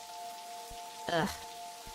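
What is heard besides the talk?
rain falling, from the video game Necrobarista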